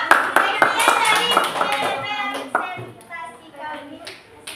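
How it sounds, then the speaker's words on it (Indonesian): A classroom group claps together in a burst of applause after a presentation, loud at first and tapering off, with children's voices mixed in. "Hari tepuk tangan kelompok 3."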